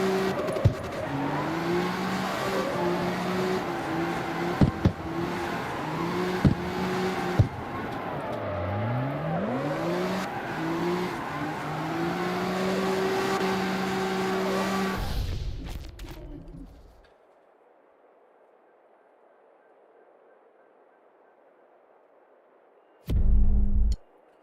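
Car engine revving and tires squealing while drifting in the CarX Street video game during a club drift race, a sustained loud wavering roar that cuts off abruptly, then near silence and a brief final burst.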